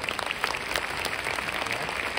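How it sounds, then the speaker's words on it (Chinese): An audience at a sharing session gives warm, continuous applause for Mr. Chen. Dense, even clapping runs for the whole two seconds with no gaps. "我们需要给我们的陈总多一个热烈的掌声"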